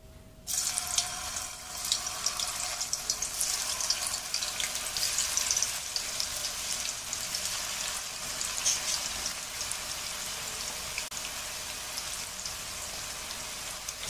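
Chettinad mutton kola balls frying in hot oil in a pan, giving a steady, dense crackling hiss that holds at even loudness throughout, close by with no talking.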